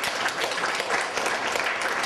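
Steady, dense applause from an audience at an award ceremony during a 2013 Vámbéry memorial program in Csetény, filling the whole moment with continuous clapping and no break.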